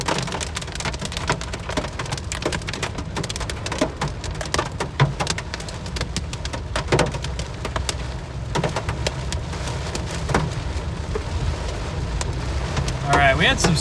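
Small hail falls outdoors during a storm, a dense, steady patter of sharp ticks and clatter on surfaces that continues throughout, fairly loud and close, with a faint voice near the end.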